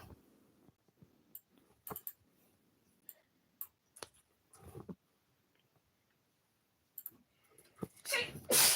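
A sharp sneeze near the end stands out among scattered clicks and small handling noises in an otherwise quiet room.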